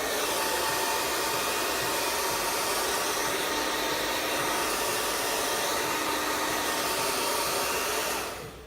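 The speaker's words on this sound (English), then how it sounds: "Step 1, we're gonna blow dry roughly, so no comb needed." A hair dryer blows steadily on curly hair during rough drying with a hand instead of a comb, a loud continuous whoosh running unbroken for about eight seconds before cutting off.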